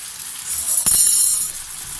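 İçli köfte frying in hot oil, a bright high sizzle that swells, pops once sharply near the middle, then hisses steadily to the end, close and without talk.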